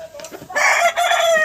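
A domestic desi chicken with colorful spotted plumage gives a short, loud cluck followed by a bright, drawn-out crowing call, close to the listener, with no talk over it.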